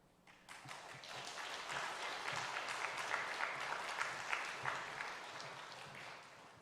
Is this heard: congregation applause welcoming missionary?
yes